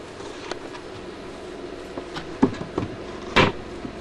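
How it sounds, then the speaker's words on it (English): A trap door on an animatronic show stage is set back in place, with a few scattered wooden knocks and a sharper thud near the end, fairly quiet against room noise. "Now just let me put the trap door back."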